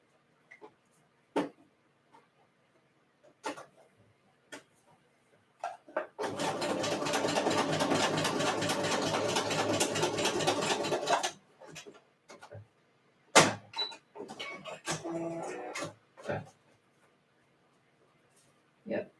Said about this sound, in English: So I have my sewing machine behind me.